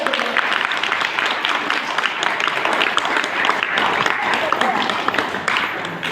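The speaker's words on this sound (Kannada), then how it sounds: "ಹೊಡಿ ಚಪ್ಪಾಳೆ ಜೋರ ಹೆಂಗ" Steady applause from an audience at a spiritual discourse on the qualities of a guru, a dense, continuous patter of many hands clapping that holds at an even level for about six seconds.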